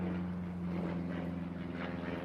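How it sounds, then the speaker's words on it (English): A noisy airplane passes overhead near a railway line, a loud, steady droning roar with a low engine hum filling the whole moment, no talk over it. "there's a noisy plane just coming over."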